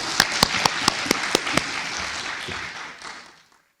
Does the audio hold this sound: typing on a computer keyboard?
no